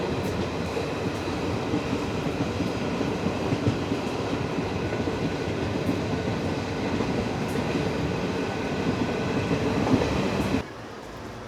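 A Mysuru–Hubballi special passenger train runs steadily along the tracks, its loud, continuous rumble and wheel clatter filling the scene before the noise drops abruptly near the end.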